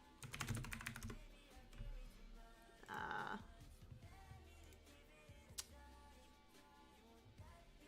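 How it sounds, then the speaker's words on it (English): Rapid clicking of keys on a loud computer keyboard, a busy burst of typing near the mic with a short louder clatter partway through. "That is some intense typing. Sorry, I just have a loud keyboard."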